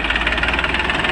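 Tractor engine running on a village farm, a close, steady knocking chug with a rapid regular pulse and no talk.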